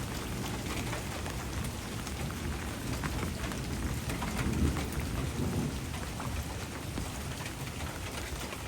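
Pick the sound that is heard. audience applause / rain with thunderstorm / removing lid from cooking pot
rain with thunderstorm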